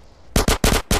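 Gunfire in GTA San Andreas, four sharp, loud shots in quick rhythmic succession over a faint background hum, with no talking.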